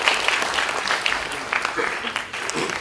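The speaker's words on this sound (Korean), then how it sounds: "다시 한번 큰 박수 한번 부탁드리겠습니다" Applause from the audience at a Korean business briefing on a 2024 hyperscale AI ecosystem program, a steady dense clatter of many hands lasting throughout.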